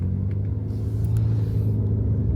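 Inside a car in Thai road traffic on the way from the airport, a steady low engine and road rumble drones continuously, with faint passing noise above it.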